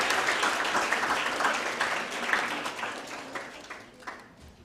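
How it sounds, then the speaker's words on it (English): A round of applause from the audience at a university competition finals, dense steady clapping that holds strong and slowly thins out toward the end. "A round of applause."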